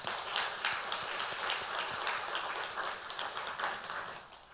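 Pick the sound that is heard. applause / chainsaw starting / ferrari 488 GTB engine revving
applause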